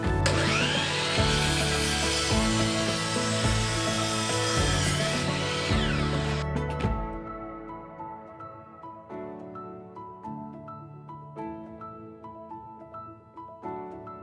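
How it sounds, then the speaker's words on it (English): A miter saw cuts through wood for a cupola with a loud, rising whine for about seven seconds. A quieter ringing follows as the blade spins down, with some light tapping afterward. "we're going to flip the miter saw and cut the other end"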